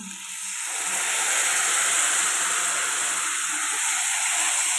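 Tomato puree and ginger garlic paste fry in a pan for a dried fish and egg curry, a strong continuous sizzle that builds during the first second and then holds steady and close with no voices.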